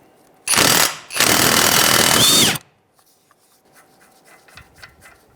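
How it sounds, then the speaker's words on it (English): Two loud, rattling bursts of a power tool removing the axle nut with a 36 mm socket on a Mazda CX-9, close by, then quiet with faint metallic clicks and handling. "We'll grab our 36 millimeter and take off that axle nut."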